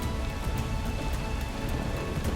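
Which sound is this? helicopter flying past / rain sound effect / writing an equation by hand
rain sound effect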